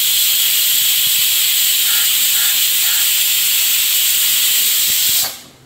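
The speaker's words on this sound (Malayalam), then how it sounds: "ഇത് നമ്മള് കുക്കർ ഇപ്പൊ ഇവിടെ വിസിലടിയാനായിട്ട് ഇതൊപ്പം അടിയും" A pressure cooker whistle releases steam in a loud, steady, high hiss for about five seconds, then cuts off abruptly.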